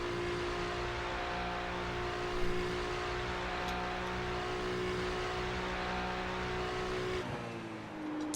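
A Ferrari race car in a racing sim lapping Watkins Glen on cold tyres, a steady loud engine drone with sustained harmonic whine held for several seconds, then a brief gear change and a drop in pitch near the end.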